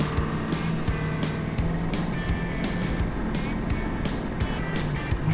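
A truck cruising along the road, heard from inside as a steady engine drone with road rumble, with regular soft thumps from tires passing over seams in the pavement.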